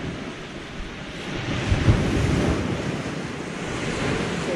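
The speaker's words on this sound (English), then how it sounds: "Be careful, that water's coming right in behind you. Tide's coming in." Ocean surf rolls in at the shore as the tide comes in at Hemsby, Norfolk, a continuous broad wash of waves mixed with wind buffeting the microphone, steady and fairly close.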